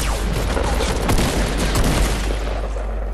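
Gunfire in the Fortnite video game, a loud, crowded stretch of overlapping shots and booms that keeps going with no pause and eases off slightly at the end.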